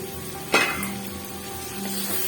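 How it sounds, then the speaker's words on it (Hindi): Onions fry in a pan for anda masala, giving a low, continuous sizzle broken by a sharp clink of a utensil against the pan early on. "बस प्याज ऐड करके भूनेंगे"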